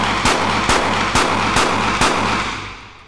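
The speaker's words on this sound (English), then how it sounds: "notice that this time when he fires, he doesn't have to destroy his sight fixture for each shot" A Colt .38 double action revolver fires five shots in quick, evenly spaced succession, each a sharp loud crack with a short echoing tail, the last fading out.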